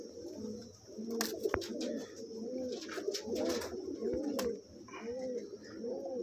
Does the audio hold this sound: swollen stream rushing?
no